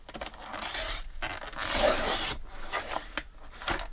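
A blade cuts apart a paper journal insert in short scraping and rasping strokes, close up, with bursts of friction separated by brief pauses.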